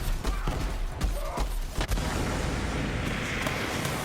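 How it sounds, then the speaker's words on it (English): Several heavy booms and blasts burst in quick succession early on in Borderlands 3, then give way to a dense rumbling roar of game combat noise. "more explosions downing us there"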